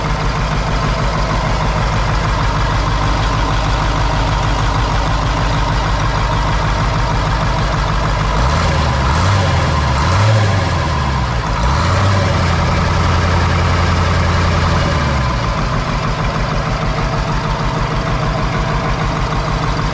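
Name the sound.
Cat 3208 diesel engine running in 1985 Ford C8000 truck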